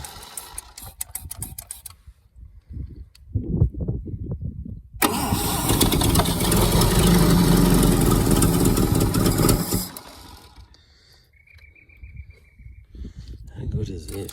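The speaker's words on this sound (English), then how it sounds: "How good is that starter motor?" A stone-cold Holden FC grey motor cranks on its starter and fires for the first time in 50 years, roaring loudly for about five seconds before cutting out, with people talking faintly before and after.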